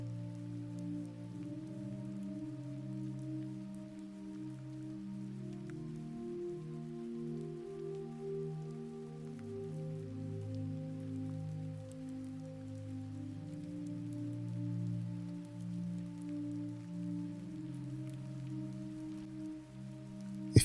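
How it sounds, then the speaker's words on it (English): Soft, steady rain falls on a surface through the night, a gentle continuous patter that stays even and calm from start to finish with no voices. "the sound of the rain"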